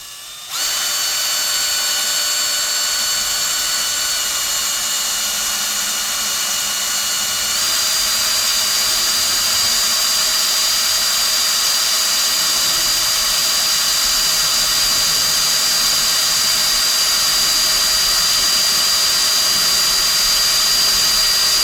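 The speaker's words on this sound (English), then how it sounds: "we're gonna start drilling our next hole, which will be right" A power drill bores a hole in a 2013 Ford Mustang, running as a loud, steady high whine that holds without a break for the whole stretch, close to the microphone.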